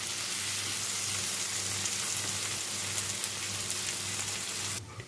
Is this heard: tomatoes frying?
yes